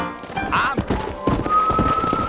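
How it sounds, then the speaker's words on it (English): Horse hooves thump on the ground in Red Dead Redemption on Nintendo Switch, a rhythmic clip-clop mixed with a brief neigh and game sounds, fairly loud and close. "the rhythmic sound of the horses' hooves thumping on the ground"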